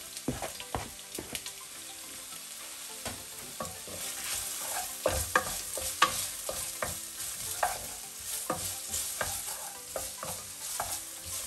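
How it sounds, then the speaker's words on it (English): Onion and green pepper slices stir-fry in a pan over medium-low heat, with a steady sizzle and repeated sharp scrapes and knocks of a utensil, nearby and without talking. "Then we are going to add in the onion slices and the green pepper slices."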